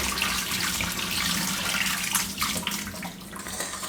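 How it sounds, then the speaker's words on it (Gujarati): Steady rush of cold water poured over cooked pasta in a strainer, splashing down continuously and fairly close for the whole stretch. "ઉપરથી ઠંડુ પાણી નાખી દેવાનું"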